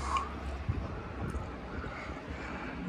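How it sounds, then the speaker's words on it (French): A Yamaha VX 110 jet ski's four-cylinder MR1 engine drones low and steady outdoors on the water, with a deeper rumble at the start and constant wind buffeting the microphone throughout. "Voilà son petit moteur MR1 4 cylindres."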